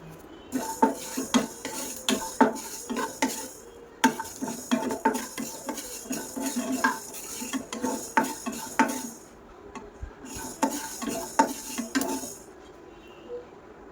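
Fenugreek seeds fry in oil for an amla pickle while a metal spoon scrapes and clinks against the pan in quick, loud, close bursts over a faint sizzle, with brief pauses.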